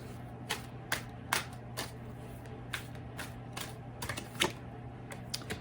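Oracle of the Unicorns cards are shuffled and drawn, giving a close run of quick flicks and riffling taps in an irregular rhythm over a low steady hum.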